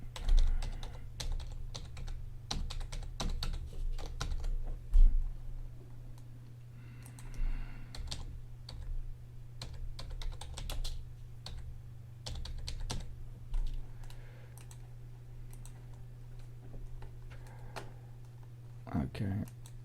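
Someone types a password on a computer keyboard, producing a steady run of close, crisp key clicks over a low constant electrical hum, with a short pause midway before the tapping resumes.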